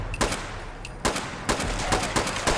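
Gunfire in the Fallout 76 video game: a few single shots, then sharp bursts of rapid shots in quick succession, loud and close, with no talking.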